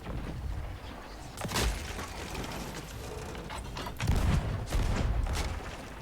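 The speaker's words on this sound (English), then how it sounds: "that's the first time I actually fired a curved cannon" Cannon fire in Sea of Thieves: several booming shots and clattering impacts over ongoing ship and ambient noise, moderately loud, with bursts scattered through the stretch and no speech.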